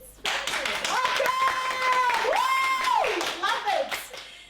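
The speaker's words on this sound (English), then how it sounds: "Somebody's clapping." Someone claps in a podcast studio while excited voices cheer loudly over the top, and the quick hand claps are partly buried beneath the whooping.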